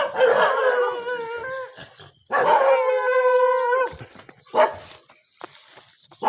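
Several dogs howl loudly and close by in long, wavering cries, broken by pauses and a few short barks toward the end.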